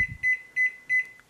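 Three evenly spaced electronic beeps from a microwave oven keypad, clear and close, each a short steady high tone.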